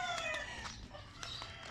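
Mother hens around their egg-laying nests give short, soft clucks and calls in an uneven rhythm, fairly close, with no voices.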